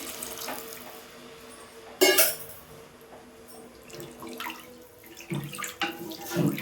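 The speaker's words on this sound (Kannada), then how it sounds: "ಅದಕ್ಕೆ ಮೂರು ಲೋಟ ನೀರು ಹಾಕ್ಕೊತಾ ಇದ್ದೀನಿ" Water from a tap or jug splashes into a cooking pot holding slightly heated water for tomato rice bath, a sharp burst of pouring followed by softer intermittent trickles and splashes, fairly close.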